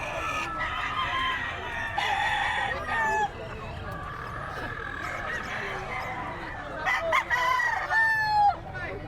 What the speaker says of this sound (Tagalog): Ayan, dami manok o